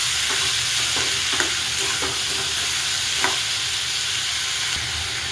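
Ivy gourd pieces fry in a pan with a constant bright sizzle, while a spatula stirs them with soft, irregular scrapes and taps close by.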